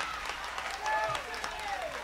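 Concert audience at The Roxy in New York City in 1977 applauds in a soft, continuous patter, with a voice speaking over the clapping.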